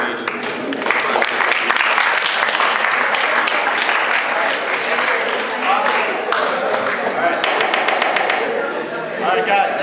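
A class applauds after a student's speech, with steady, enthusiastic clapping filling the room and voices mixed in over it.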